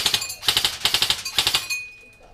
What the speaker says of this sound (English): I'll let Steve put a few rounds down sight